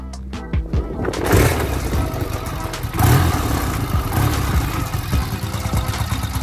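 A 1970 Triumph Bonneville 750 motorcycle engine revs up loudly nearby, rising bursts of engine roar with a couple of surges after a few sharp initial pops.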